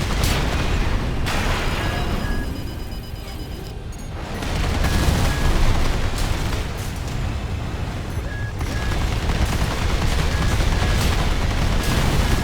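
Sustained rapid machine gun fire rattles through a noisy Armored Core 6 battle, loud and close, mixed with booms and heavy combat rumble, with a few faint electronic beeps.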